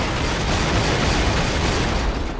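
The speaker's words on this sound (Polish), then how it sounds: "Cofamy się i wielki wybuch." A large explosion in the video game Killzone 2 roars as a dense, sustained blast with rumbling low end, loud and filling the whole moment without voices.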